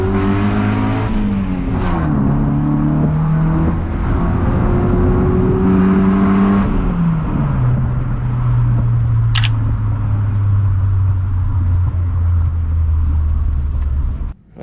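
A car with stock headers drives along, its engine and exhaust droning loudly and steadily, pitch climbing through the gears then settling into a cruising hum, close and continuous to the end.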